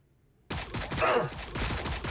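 Rapid bursts of gunfire in a sci-fi video game battle erupt after a brief silence and continue as a dense, loud barrage with overlapping shots.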